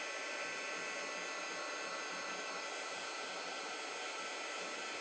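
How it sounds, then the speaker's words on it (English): A heat embossing tool blows hot air over embossing powder on a craft project, giving a constant, close, even whoosh with no breaks. "heat tool, please. I'm going to heat that up."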